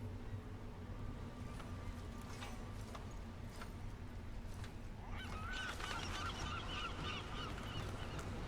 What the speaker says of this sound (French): Des mouettes.